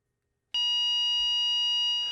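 A fire control panel sounds its fire alarm signal, a sudden loud steady electronic tone with several bright harmonics that starts abruptly and holds unchanged.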